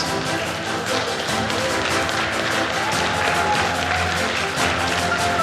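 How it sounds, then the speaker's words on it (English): A convocation crowd applauds the graduating students in a steady, dense wash of clapping from a large hall, continuous throughout with faint voices underneath. "Let's applause all the graduating students."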